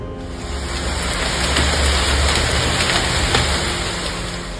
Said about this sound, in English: Heavy rain flooded the streets, causing significant traffic disruptions.